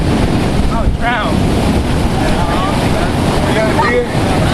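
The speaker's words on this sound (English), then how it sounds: "It's the waves out there. The waves. Hella big." Big ocean waves rolling in at a campsite shore, a loud continuous roar of surf battered by heavy wind noise on the microphone, with faint voices briefly mixed in.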